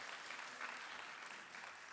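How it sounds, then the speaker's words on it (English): Audience applause at a women's conference keynote fills the room with a dense, even patter of clapping, moderately distant and steady throughout. "Y'all should clap for that."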